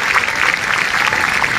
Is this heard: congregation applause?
yes